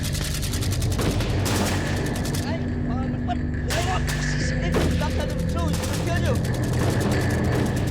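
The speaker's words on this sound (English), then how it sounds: "Stop shooting!" Gunfire and shooting during a tense confrontation: loud, dense bursts of shots that recur through a continuous din, with voices mixed underneath.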